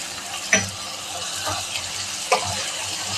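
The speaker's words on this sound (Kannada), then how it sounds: "ಇಲ್ಲಿ ನೋಡಿ, ಎಷ್ಟು ಚೆನ್ನಾಗಿ ನೈಸಾಗಿ ಫ್ರೈ ಆಗ್ತಿದೆ" Ingredients for brinjal curry frying steadily in a pan, a continuous close sizzle with a few soft clinks of a stirring spoon against the pan.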